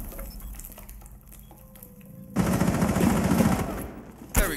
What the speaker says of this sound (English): Why are you not shooting him through the wall?